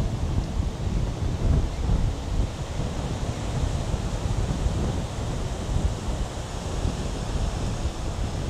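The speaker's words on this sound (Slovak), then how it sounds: "naozaj ten vietor sa zosiluje a tá kamera sa už celku dosť trepe" Strong outdoor wind buffets and roars across the microphone in a steady, loud rumble with surging gusts throughout, with no talking.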